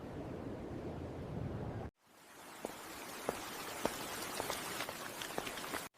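Heavy rain pours steadily under a gray sky, a dense hiss with scattered sharper drops, cut off briefly by a short gap before the downpour resumes at full strength.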